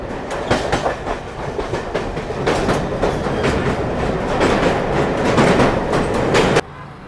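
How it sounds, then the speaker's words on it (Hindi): A modern Indian passenger train crossing Delhi's old iron bridge on approach to Old Delhi station, loud rhythmic clickety-clack of wheels over rail joints with a rumbling, clanking undertone, heard from on board. "पुराने लोहे के लोग अब जो पुराना लोहे का पुल है वो पार करने वाले हैं"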